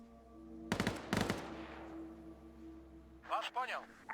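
Gunfire in the Arma 3 military video game: two quick bursts of shots ring out at moderate distance over a low steady hum, followed by a short stretch of voice chatter.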